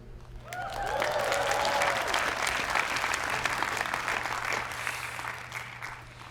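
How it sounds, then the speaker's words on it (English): Applause and cheering from a graduation commencement audience swell in and hold steady, a dense wash of many hands clapping at a moderate distance, with a voice briefly audible near the start. "please be sure to cheer so loudly that we can hear you all the way here in Pittsburgh"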